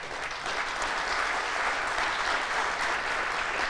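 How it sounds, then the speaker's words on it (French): Sustained audience applause at a talk, thick and even clapping from a seated crowd that stays loud throughout without voices. "Et Eric, il faut que tu te lèves, si tu veux qu'on t'applaudisse."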